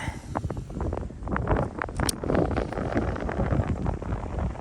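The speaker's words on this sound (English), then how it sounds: "Oh, that wind is really blowing." Strong wind roars and buffets the microphone in uneven gusts, steady and loud throughout with no clear speech.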